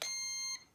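A single short electronic beep from a drone controller trim centering, clear and close, ending abruptly with a faint tail.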